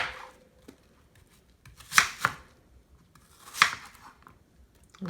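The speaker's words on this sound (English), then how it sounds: "So I'm going to cut these." A knife cutting small onions on a board for Southern-style potato soup, giving a few sharp, close chops in two clusters with quiet gaps between, and no talking.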